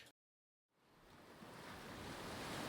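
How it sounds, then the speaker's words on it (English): Sea waves recorded at the shore and played back from a vintage tape recorder come in after a moment of silence, and a broad wash of surf swells up steadily and then holds, with no voices. "Got started off with some sound effects that I recorded next to the sea last year."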